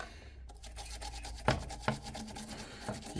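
A toothbrush scrubs a PC motherboard during a basic gaming PC build, giving a steady bristly rubbing rasp with a couple of sharper knocks, close and alone without talk.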